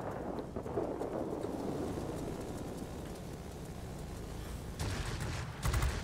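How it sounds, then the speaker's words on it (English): A 57 mm aircraft cannon fires in World of Warplanes aboard a Ki-102 ground-attack plane, as slow heavy booms over a constant engine and wind roar, with louder bursts near the end. "Man, that 57 millimeter cannon is slow as hell."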